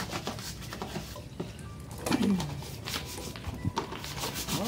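A brush scrubs a toy truck clean, making repeated close rubbing and scraping strokes in an irregular rhythm, with small knocks and faint background noise.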